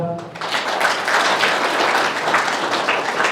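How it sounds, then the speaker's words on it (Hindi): A congregation at a Christian gathering breaks into applause after a preacher's brief spoken line, a thick, even patter of clapping that carries on steadily to the end. "तालियां बजाइए जरा"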